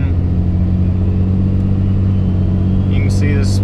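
A compound-turbo Cummins diesel truck accelerates lightly with a steady, loud low engine rumble, turbo whistle rising near the end, heard from inside the cab.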